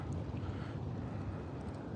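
Strong wind buffets a microphone outdoors on a cloudy day of fishing, a steady, loud, low rumble with no talking.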